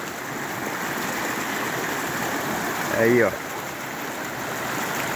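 Rio da Caixa running high in Rio do Pires, southwest Bahia, a constant rushing of river water close by, with a brief spoken remark midway.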